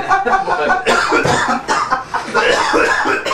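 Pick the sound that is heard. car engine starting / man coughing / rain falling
man coughing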